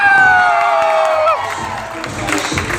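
A live audience at a network-marketing event bursts into cheering and whoops, loud and close, with some clapping mixed into the crowd noise as it settles.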